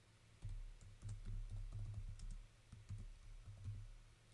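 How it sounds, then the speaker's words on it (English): Quiet typing on a Chromebook keyboard running Chrome OS, a run of soft, close key taps in an uneven rhythm with brief pauses, and no one speaking. "I'm typing the keyboard, I'm not touching the screen or clicking on the keys on the screen."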